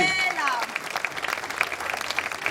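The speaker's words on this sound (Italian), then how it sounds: "facciamo un signor applauso al nostro assessore" Crowd applause fills the clip, a dense steady clatter of many hands clapping outdoors in Piazza Manzoni, Jesolo, during a comedy show, with some voices mixed in.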